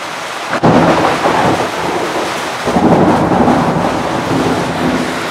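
Heavy rain pours steadily during a thunderstorm, with loud, continuous noise. Rolling thunder rumbles through it, and a sharp crack comes near the start; no one speaks.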